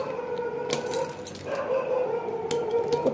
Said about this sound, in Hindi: कुत्ते नहीं भोंकेंगे तो क्या होगा